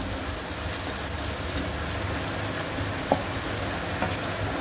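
Bombay duck fish frying in a pan for a traditional bombil batata dish, a dense continuous crackling sizzle like light rain, close and steady with a couple of faint pops, no voices.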